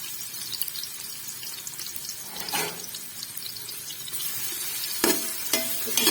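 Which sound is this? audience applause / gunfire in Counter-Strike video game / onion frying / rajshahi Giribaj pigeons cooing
onion frying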